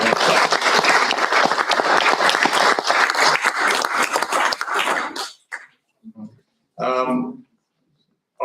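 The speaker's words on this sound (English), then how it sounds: "let's give a round of applause for the people that were" A roomful of people claps for school staff at a school board meeting, a dense burst lasting about five seconds before it quickly dies away, followed by a few coughs and a short spoken phrase.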